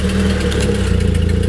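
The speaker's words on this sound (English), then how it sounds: "Ignore that slapping sound, that's just an exhaust leak" A Nissan 240SX engine idles steadily and close by, a low rumbling hum with a rhythmic slapping pulse from an exhaust leak running through it, with no talking.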